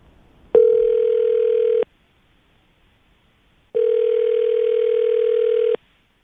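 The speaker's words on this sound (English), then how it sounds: "All right, we're going to call her right now. Get her on the phone." A telephone ringback tone while calling someone, two long steady beeps separated by a silent gap, clean and loud.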